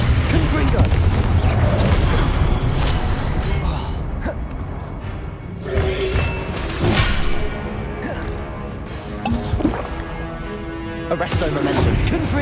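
Spell blasts and impacts boom and crack in rapid succession during Hogwarts Legacy combat, a dense, loud barrage of bursts with a voice speaking over the fighting.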